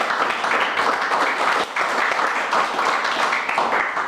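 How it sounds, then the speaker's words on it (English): A steady round of applause from an audience honoring Sharon and the organizers at a public service event at Joslen Commons, dense and even throughout with a brief dip midway, no speech over it. "I'd like to give a round of applause to Sharon and everybody responsible for it."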